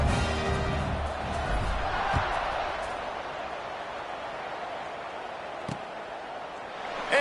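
Football stadium crowd at kickoff, a broad sustained roar that starts loud and fades to a steady murmur, with a thud near the middle.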